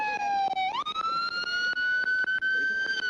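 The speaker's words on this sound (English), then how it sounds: "turn your siren off" A police car siren wails loudly and close, a steady high electronic tone that rises in pitch partway through and then holds, broken by brief dips.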